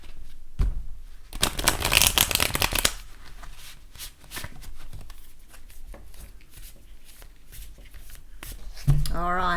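Tarot cards are riffled in one loud, rapid shuffle burst, followed by quieter card handling, soft taps and light shuffling.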